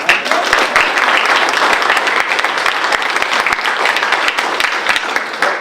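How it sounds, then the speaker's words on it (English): Lecture audience breaks into sustained applause, dense and loud from a large crowd of clapping hands, continuous throughout without any speech. "Don't applaud too early."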